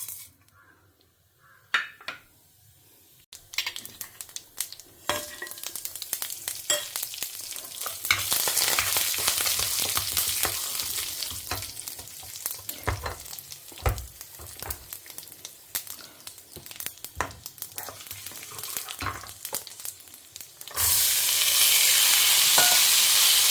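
Mustard seeds, urad dal, chana dal, coconut, dried red chilies and curry leaves fry in oil for a white peas sundal, giving a steady close sizzle with occasional stirring clinks that grows louder near the end, with no talking.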